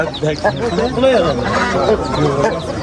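Roosters and hens cluck and call in a noisy crowd at a Namangan fighting-cock market, with people talking loudly close by over the birds.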